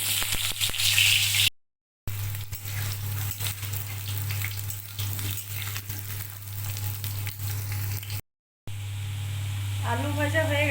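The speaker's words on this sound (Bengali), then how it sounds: "আলু ভেজে নেব।" Potatoes fry in oil in a wok with a continuous loud hiss and crackle, interrupted by two short silent gaps, with a low steady hum running underneath.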